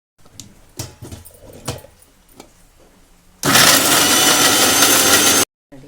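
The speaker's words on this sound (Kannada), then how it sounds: "ಮಿಕ್ಸಿಗೆ ಗ್ರೈಂಡ್" A few clicks and clatters, then a mixer grinder grinding grated coconut for dry prawn chutney whirs loudly and steadily for about two seconds before cutting off abruptly.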